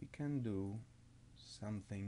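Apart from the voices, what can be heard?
No everyday noise stands out behind the speech.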